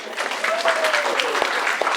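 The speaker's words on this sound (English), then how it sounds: "Let's give Paul one more round of applause" Applause from an audience at a holiday special event, steady dense clapping throughout with a bit of crowd noise and a faint whistle, fairly loud and continuous.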